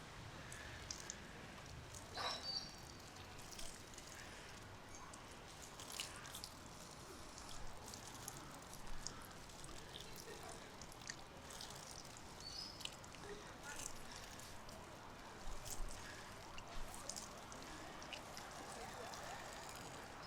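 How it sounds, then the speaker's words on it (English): Hands are rinsed under a running tap during a children's handwashing lesson, giving a steady, faint wash of flowing water throughout with a few small splashes. "we rinse our hands."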